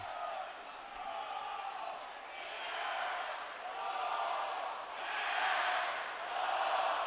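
A college hockey crowd at PNC Arena makes a distant, washy murmur of cheering that rises and falls in slow swells. No one speaks over it.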